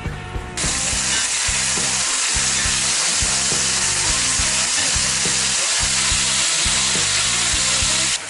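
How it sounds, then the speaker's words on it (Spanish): Chicken pieces frying in olive oil in a pot over medium-high heat, a loud, steady close-up sizzle with crackling pops running throughout and a low rhythmic mechanical hum beneath. "Y a fuego medio alto vamos a ir friendo."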